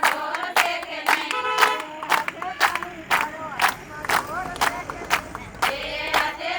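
An audience claps in unison with both hands, sharp claps landing in a steady rhythm of about two per second, while many voices sing or chant loudly between and under them.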